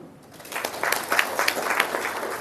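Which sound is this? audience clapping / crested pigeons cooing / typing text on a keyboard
audience clapping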